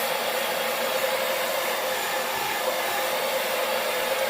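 Hair dryer blowing a steady, loud, unbroken broadband whoosh while drying paint on a painted sunflower welcome sign, running continuously with no talk.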